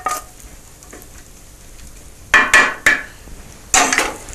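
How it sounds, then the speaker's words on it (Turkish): Sautéed onions are tipped into a baking tray, with a few quick clinks and scrapes of the pan against the tray over a quiet background, and no talk. "Soğanlar kavruldu iyice. Ve tepsiye soğanlar e, dökülür."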